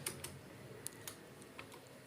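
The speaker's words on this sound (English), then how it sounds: "You need to just type" Soft, quick keystrokes on a computer keyboard, a handful of scattered light clicks at a low level with no speech.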